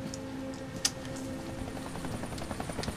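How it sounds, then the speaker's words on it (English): Helicopter in the game Deadlight, a steady rapid rotor chop with a faint droning hum and one sharp click, moderately quiet and heard alone. "Oh, gotta hide from the helicopter."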